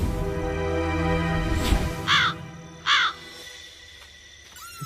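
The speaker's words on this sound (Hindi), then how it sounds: "कमीने कौवे," A crow caws twice in quick succession, fairly close and clear, over a busy background of music and ambient noise, without speech.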